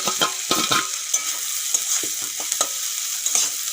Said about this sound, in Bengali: টমেটো দেওয়ার পরে একটুখানি ভেজে নিতে হবে টমেটো দেওয়ার পরে একটুক্ষণ ভেজে নিয়েছি এখন দিয়ে দেবো ভেজে রাখা ডিমগুলো